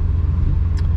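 A Ford Mustang drift car rolls through the pits on a cool-down lap, its engine a steady, low, close rumble with no voices.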